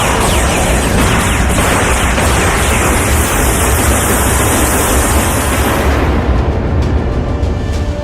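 A loud, sustained explosion effect in a dramatized audio story, a dense roaring blast that fills the whole clip for about six seconds before its bright edge fades into a lower rumble, with no talk.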